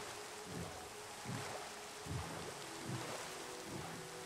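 Rain and thunder in the Minecraft video game: a steady hiss of rainfall with soft low rumbles of thunder rolling in every second or so, quiet and even, with no voices.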